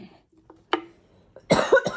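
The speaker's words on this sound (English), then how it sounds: "I've been really sick, so I still have my cough." A person who has been sick coughs, a faint rasp first and then a sharp cough, followed by a harder, louder double cough close by.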